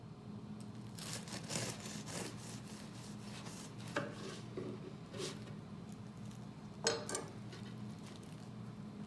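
A knife saws into a freshly baked loaf of bread at home, giving soft, rasping strokes and a few sharper crunches of crust, close and fairly quiet over a steady low background hum.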